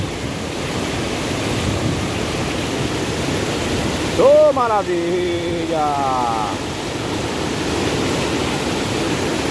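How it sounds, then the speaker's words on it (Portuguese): In the harsh rainy season of the Ceará backcountry, water rushes over a barrier in a loud, constant roar. A voice briefly speaks over it midway. "com essa queda d'água, faz essa barulheira"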